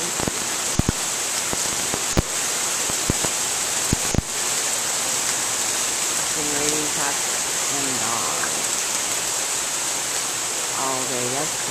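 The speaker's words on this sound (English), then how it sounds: "It's the time that we're having a thunderstorm and rain, if you can hear it." Midnight thunderstorm rain seen from a balcony, a loud, continuous broadband hiss with several sharp cracks early on; a voice speaks briefly over the downpour toward the end.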